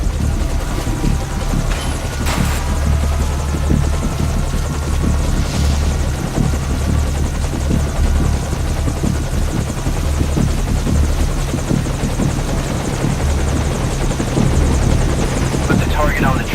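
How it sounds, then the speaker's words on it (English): Military helicopter in the night stealth game Metal Gear Solid V Ground Zeroes: a steady, loud rotor drone with deep chopping throb that holds for the whole stretch, with faint voices and game effects over it. "the enemy has spotted our helicopter"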